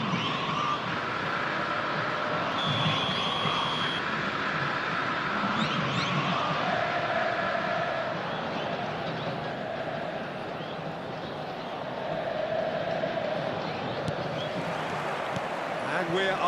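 A stadium crowd in eFootball roars and murmurs as a continuous dense wash of voices, with a commentator talking over it throughout.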